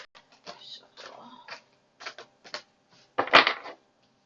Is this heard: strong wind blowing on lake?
no